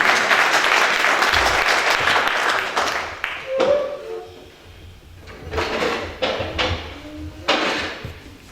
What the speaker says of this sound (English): and applause for Mr. Shaw